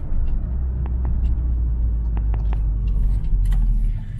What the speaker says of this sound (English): Let's see how these railroad tracks sound.